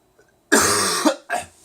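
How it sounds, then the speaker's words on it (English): A single harsh cough up close, followed by a shorter second cough, in otherwise quiet surroundings. "I got a cough, by the way."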